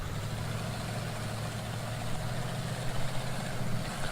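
A modded Dodge truck engine in the Spin Tires video game, a loud, steady, low rumbling drone that surges slightly toward the end as it revs.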